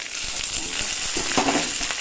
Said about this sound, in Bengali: এবার লঙ্কাগুলো দিয়ে দেবো, শুকনো লঙ্কা কাঁচা লঙ্কা দিয়ে দেবো,